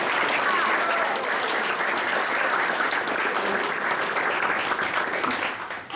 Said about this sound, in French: Je vous demande de les applaudir toutes les 2.